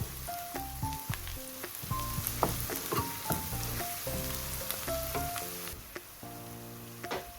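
Onion and curry leaves sauté in a pan for a prawn ghee roast, soft continuous sizzling broken by irregular clinks and scrapes of a stirring spoon, with no talk.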